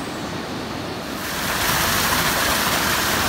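Muddy Nakagawa river rushing after rain, a loud broadband roar of flowing water that swells stronger partway through, with no voices.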